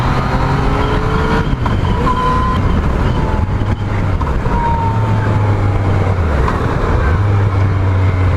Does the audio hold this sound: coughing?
no